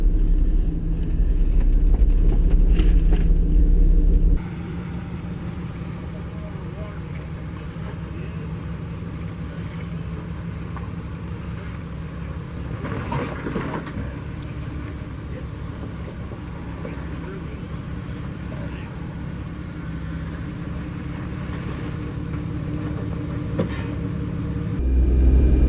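A Jeep engine idling and crawling in 4 low over a rock ledge on a Moab trail, a steady low rumble lasting throughout, fairly close, with muffled handling noise at the start and end.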